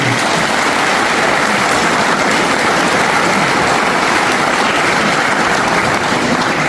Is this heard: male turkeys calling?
no